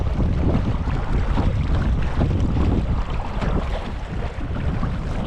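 Strong wind buffets a small Bass Raider 10E boat heading straight into 10 to 12 mph wind on a reservoir, a loud continuous rushing roar with gusty microphone noise and no talking.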